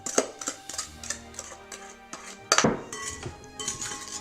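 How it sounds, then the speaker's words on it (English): A spoon stirs an egg mixture through rhubarb and dandelion-leaf pie filling in a bowl, giving close, irregular clinks and scrapes of utensil on dish with a few sharper knocks. "Give this a nice stir so that all your rhubarb and your dandelion leaves are covered with that egg mixture."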